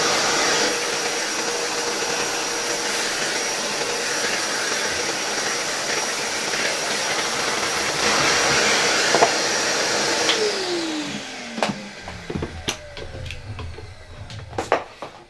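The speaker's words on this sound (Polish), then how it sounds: "Zapomniałem, że mam odkurzacz ustawiony na dmuchawę" A vacuum cleaner running in blower mode roars steadily with a loud, airy whoosh, then its motor winds down near the end, leaving a few clicks and knocks.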